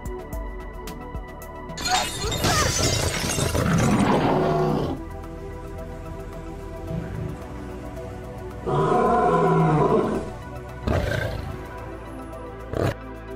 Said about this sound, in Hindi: इस चाइनीज कंपनी के बिलबोर्ड ने तो दुनिया भर में खूब धूम मचाई, जिसमें होलोग्राम टेक्नोलॉजी से क्रिएट किया गया ये शेर शीशा तोड़कर यूं छलांग लगाता है